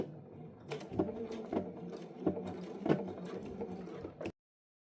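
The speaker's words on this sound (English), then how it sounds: "I'm going to backstitch twice just to hold that stitch at the beginning." A sewing machine backstitching the start of a seam on a zipper clutch, a run of short rhythmic mechanical stitching bursts with clicks, moderately close and steady, then stopping abruptly.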